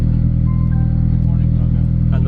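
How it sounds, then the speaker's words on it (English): Honda EG hatchback engine fired by a JDi push-start button, settling into a steady loud idle with strong low rumble throughout, a faint beep or tone overlaid briefly. "There it is, that she fires up."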